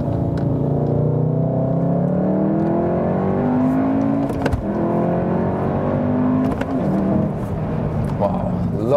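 A facelifted 310 hp all-wheel-drive VW Golf R pulls out of a tight racetrack corner in second gear, its engine revving up loud and close in rising sweeps that repeatedly climb, dip and climb again.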